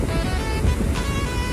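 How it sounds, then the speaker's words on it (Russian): Stormy sea surf at Dzhemete on a cold, windy day: a brief, continuous roar of breaking waves mixed with wind buffeting the microphone, with no voices. "Вот посмотрите, море штормит."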